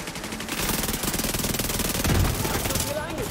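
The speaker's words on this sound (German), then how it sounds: "Auf die Füße schießen." Sustained rapid automatic gunfire in The Division 2 video game, loud and close, a dense stream of shots running almost the whole length with brief gaps near the start and end, with a voice briefly heard.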